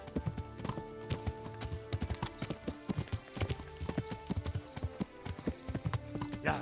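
Horse hooves gallop in the medieval video game Kingdom Come: Deliverance, a fast and steady clip-clop rhythm that runs close and clear for the whole stretch, with no talking over it.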